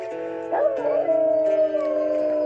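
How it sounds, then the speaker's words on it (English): Wolf howl from the video game WolfQuest, a single sustained tonal call rising then holding steady for about two seconds over soft game ambience. "nice howl there, Darkly."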